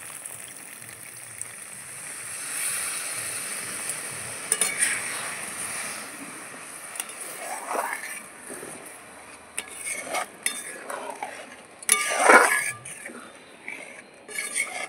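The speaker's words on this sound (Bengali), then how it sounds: "এখন আমি জল দিয়ে দিচ্ছি।" Water poured into fried spice paste for a Bengali rohu fish curry, with a soft hiss and sizzle, then scattered clinks and scrapes of a spoon against the pan and a louder knock toward the end.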